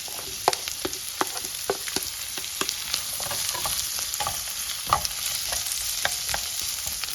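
Capsicum in three colours, onion, ginger and green chilli stir-fried on full flame for chilli paneer, a dense bright sizzle punctuated by regular sharp scrapes and clacks of a spatula against the pan, close and alone.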